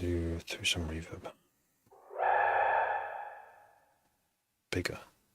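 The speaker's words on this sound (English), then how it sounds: "Let's just put this through some reverb." A muffled synth string pad run through reverb swells into one sustained, swirling tone that slowly decays into a wet tail. Brief talk comes just before and just after it.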